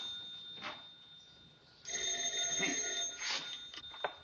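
A telephone bell rings in a 1936 film scene, a steady electric ring beginning partway through and continuing to the end, alone without talk.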